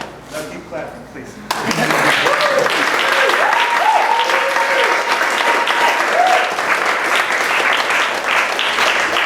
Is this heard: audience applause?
yes